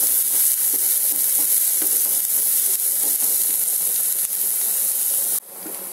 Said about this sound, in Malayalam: സവാള വഴന്നു വരുന്നുണ്ട്.